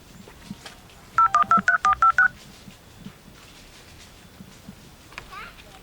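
A quick run of about eight electronic telephone keypad tones, evenly spaced beeps, over a faint background with some distant voices.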